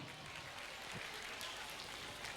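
Audience applause at a Miss pageant outfit presentation during a fashion show in Ouagadougou, a steady wash of clapping heard from a distance throughout, not very loud, without any clear voices above it.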